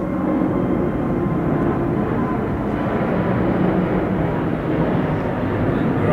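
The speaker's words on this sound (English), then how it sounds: "We get aeroplanes flying over." An aeroplane passes overhead along a flight path, its broad, loud engine roar and rushing rumble steady and continuous throughout with no talk.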